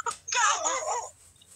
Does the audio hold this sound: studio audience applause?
no